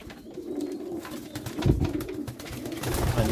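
Tumbler pigeons, including a young one, coo nearby at a night feeding in low, throaty repeated calls, with soft rustling in the background.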